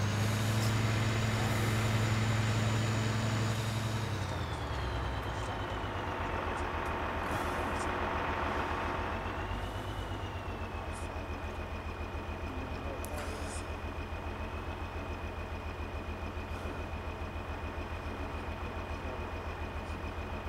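A tractor engine runs steadily in the Farming Simulator video game, a continuous drone whose pitch drops partway through and then holds level and close.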